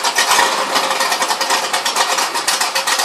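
A Ford Mustang at a Mustang and American car meet in Trenčín idles roughly while firing on only two or three cylinders, shaking as it runs. Its loud, close engine churns in an uneven, pulsing rhythm without any talk.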